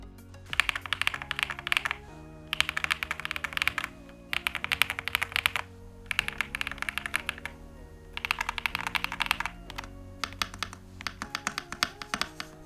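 Typing on an MCHOSE G98 PRO wireless hot-swappable keyboard with TTC Flame Orange switches, bursts of rapid clacking keystrokes about two seconds long separated by short pauses, close up and clear with no talking.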